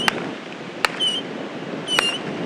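New Year's fireworks go off on a Texas beach about a quarter mile away: three sharp, loud bangs, each followed by a thin whistling screech, spaced irregularly over open-air background noise with no speech.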